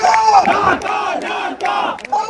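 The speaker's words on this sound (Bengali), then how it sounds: "সেই সমাবেশেই ফের শোনা গেল ভারত বিরোধী স্লোগান" A crowd at a rally in Dhaka chants anti-India slogans, with loud, rhythmic shouted bursts in unison separated by brief pauses.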